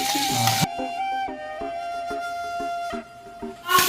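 Steady sizzle of food frying in hot oil, with regular soft clinks of stirring throughout, while cooking prawn curry in Jaffna.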